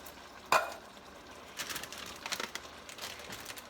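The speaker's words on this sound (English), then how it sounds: "I'm going to add my can of diced tomatoes." A can of diced tomatoes is added to a lentil soup pot, with one sharp splat followed by faint wet stirring and scraping sounds nearby.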